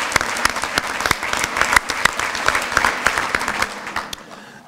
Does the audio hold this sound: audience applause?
yes